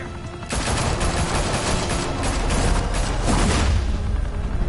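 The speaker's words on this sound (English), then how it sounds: "Open fire!" Enemies open up with gunfire in a Batman video game, sustained overlapping bursts and rattling shots filling the whole stretch loudly, with no voices over it.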